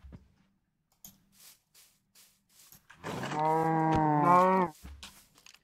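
A Minecraft cow moos in one loud, drawn-out game-sound call with a rich harmonic stack, following a few faint clicks and taps and then cutting off abruptly.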